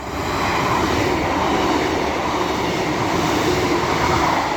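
A Class 156 and Class 150 diesel train pairing runs through Castleton station, a loud, steady rumble and rattle of wheels on rail passing close by without any talk.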